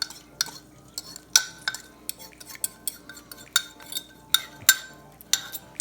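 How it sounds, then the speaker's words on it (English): A spoon knocks and scrapes against a bowl while honey hot glaze is mixed for air-fried chicken wings from a Ninja Foodi Grill, giving a steady run of close, sharp clinks about twice a second. "let's mix this up right quick, and we're gonna coat the wings with it"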